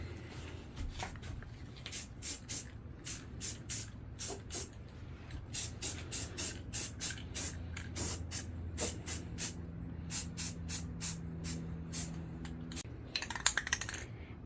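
Rattle can of self-etching primer sprayed onto bare metal of a Pontiac trunk in short rhythmic hissing bursts, about twenty close, even spurts with brief gaps, ending in a few clatters.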